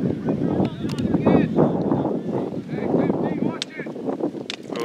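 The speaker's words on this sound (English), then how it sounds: "Oh, it's getting windy too." Gusty wind buffets the microphone in low rumbling waves at an outdoor youth soccer match, with distant voices faintly underneath.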